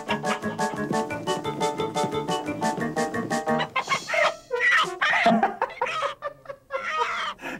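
A chicken clucks in a quick run of repeated, close cackling pulses, giving way to livelier vocal sounds in the second half.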